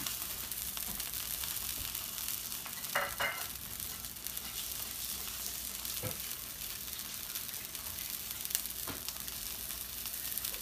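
Salmon sizzles in a pan over medium-high heat, a steady soft frying hiss with occasional pops, quiet and continuous with no talking.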